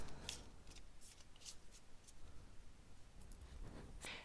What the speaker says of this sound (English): So we'll get these nice and shuffled up here